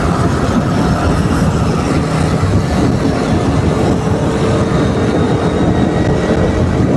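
KTM RC 200 motorcycle engine and exhaust during a normal ride, a steady, loud, continuous drone with wind rush and no change in pitch or level throughout, with no talking.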